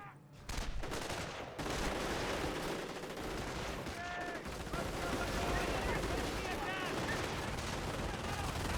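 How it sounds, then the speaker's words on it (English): MG42 machine gun firing in the Company of Heroes video game, a steady sustained rattle mixed with other distant battle gunfire, continuous and fairly loud, with a voice talking over parts of it. "MG42 firing away."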